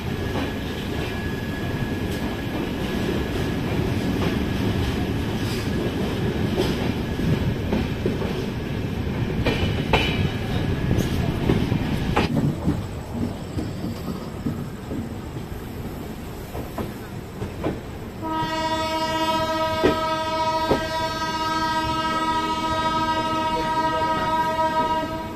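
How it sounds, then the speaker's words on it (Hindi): Islampur Hatia Express rolling along after departing Jahanabad Junction, with a steady rumble and clatter of wheels on rail, followed near the end by a sustained horn blast. "अभी अपना ट्रेन जहानाबाद जंक्शन से डिपार्ट हो चुका है।"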